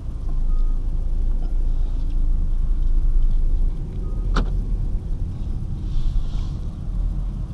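A 2013 Ford Escape pulls out, its engine a low steady rumble inside the cabin with a brief sharp click partway through.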